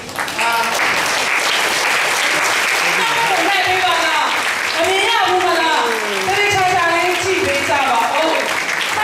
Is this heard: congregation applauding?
yes